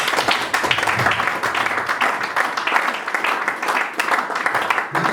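A church congregation applauding and acclaiming the Lord during a worship service, a dense, steady wash of clapping mixed with voices for several seconds.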